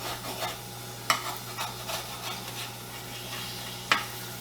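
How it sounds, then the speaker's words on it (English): Bacon and eggs fry together in a pan for a Christmas breakfast, giving a steady close sizzling hiss with a few sharp spatters and pops, no voices. "we got about another minute and a half left on the bacon. Let's go ahead and flip these eggs."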